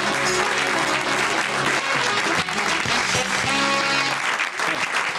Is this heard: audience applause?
yes